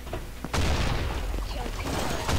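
Sniper fire in the Combat Master shooter game: a sharp crack lands about half a second in, followed by dense, loud rumbling gunfire and booms for the remaining couple of seconds.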